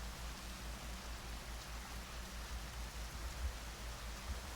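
Faint, steady rain hiss plays in the Half-Life fan game Hunt Down The Freeman, a soft continuous wash with a low rhythmic pulse underneath and no voices.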